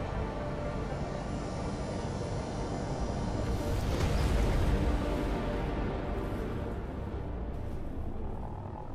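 Aircraft engine roar in Deus Ex: Mankind Divided, a steady broad rumble and whoosh that swells to a peak midway through and then eases, loud and continuous with no talking.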